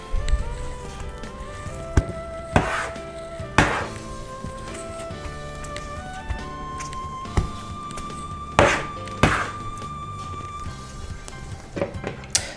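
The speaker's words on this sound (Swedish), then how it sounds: "Och sen är det bara att börja knåda." Cinnamon bun dough kneaded on a table by hand: soft, irregular thumps and slaps of dough hitting the surface, close up, over a backdrop of gentle music.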